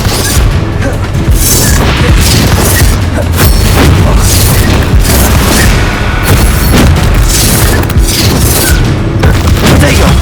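Bombarda spell explosions and combat in the Hogwarts Legacy video game, loud continuous booming blasts and crashes layered densely with voices and game effects throughout.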